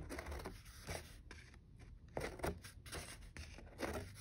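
Close, quiet snipping of scissors cutting through a stiff paper plate, a series of short crisp cuts with brief pauses between them.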